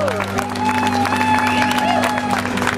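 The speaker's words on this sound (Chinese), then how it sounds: "我们给这群年轻人掌声鼓励" Audience applause and cheering for a group of young people at a public gathering, a sustained crowd roar of clapping with musical tones underneath, steady and fairly loud throughout.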